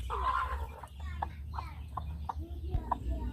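Chickens clucking in a semi-free-range coop, a flock giving repeated short clucks and calls at close range over a low rumbling background.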